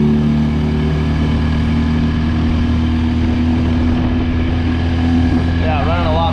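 Repaired cheap secondhand outboard motor running on a boat, a loud continuous close engine drone with steady hum and no talking.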